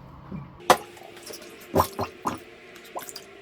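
Glass jar covered with paper, turned over in water, giving a few scattered splashes, drips and soft gurgles, close and fairly quiet, spread irregularly over a few seconds.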